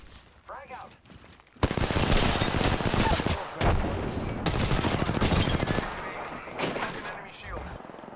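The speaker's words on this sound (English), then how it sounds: "Opening fire on the enemy." Rapid gunfire in the Apex Legends video game, dense sustained bursts of automatic shots with short pauses between volleys, loud and close, with a voice speaking during the firing.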